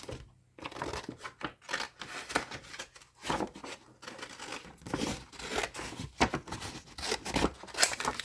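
Scissors cut paper for a handcraft project, a close, quiet run of irregular snips and crisp paper rustles, uneven in rhythm and without speech.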